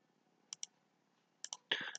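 Quiet clicks of keys pressed on a computer keyboard for a Ctrl+F shortcut in Microsoft Word: two pairs of sharp taps, then a brief denser clatter, faint and close with no talk.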